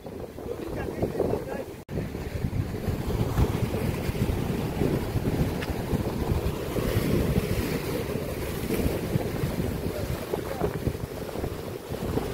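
Sea waves surge and wash continuously at a Konkan shore at Harihareshwar, with heavy wind buffeting the microphone throughout; a steady, loud roar with a brief dip near the start.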